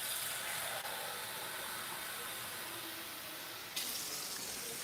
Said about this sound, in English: I'm gonna put some more water in my spaghetti.